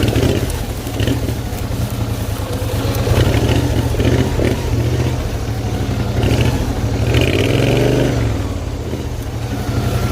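Loud, close engine drone of a hot-rod tractor with a Briggs & Stratton engine driving through woods, running steadily with a rise in pitch and throttle before easing as it drops to first gear.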